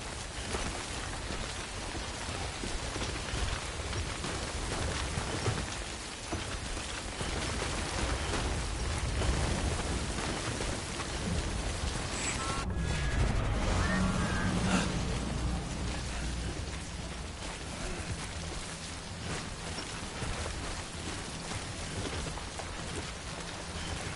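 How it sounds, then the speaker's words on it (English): Steady in-game rain in Death Stranding patters and hisses continuously, with a faint low rumble building midway before settling back into the even downpour. "I'm sorry, it's fucking raining."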